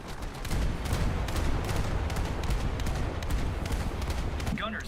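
Steady, dense rattle of naval gunfire from ship gunners on a US coastal vessel in a naval combat video game, continuous rapid shots mixed with distant booms, carrying on evenly throughout.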